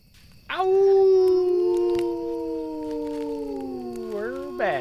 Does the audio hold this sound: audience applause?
no